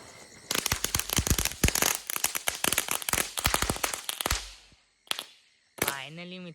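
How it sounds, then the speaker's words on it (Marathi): Kitkat firecrackers, the small tudtudi kind, go off outdoors at night in a village, a rapid string of sharp cracking pops lasting about four seconds, then two more bangs, followed by people talking. "आपला एकतरी फटाका वाजलाय"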